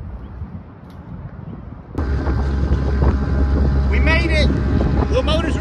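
A sailboat's small motor kicks in partway through and settles into a steady, loud rumble on the way to the harbor, with wind buffeting the microphone.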